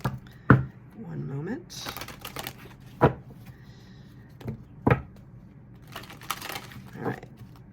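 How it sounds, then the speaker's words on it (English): Tarot cards being reshuffled by hand: sharp, separate snaps and riffles every second or two, loud and close, with a voice speaking briefly between them. "I was going to say cards have been pre-shuffled, but I guess I'm going to reshuffle them."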